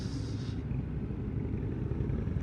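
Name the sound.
Harley-Davidson Fat Boy motorcycles riding past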